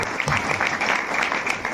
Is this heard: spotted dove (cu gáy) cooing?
no